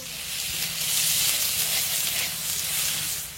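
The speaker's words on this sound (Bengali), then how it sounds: "তেলের মধ্যে দেবো আদা কোড়া।" Grated ginger sizzles in hot oil in a wok for dal, a steady bright hiss that swells slightly and holds close by, with no talking.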